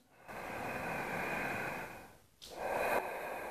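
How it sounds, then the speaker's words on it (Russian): Two long, audible yogic breaths close to the microphone, Ashtanga-style breathing with sound: a slow airy inhale-exhale, a brief pause, then another deep breath with a rasping throat sound. "глубокое свободное дыхание со звуком"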